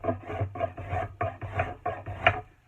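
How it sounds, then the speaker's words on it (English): A spokeshave scrapes along a wooden axe handle, rounding off its corners in a run of close, rhythmic raspy strokes, about seven or eight pulls with brief gaps between them and no voices. "I'm going to flip my spoke shave around"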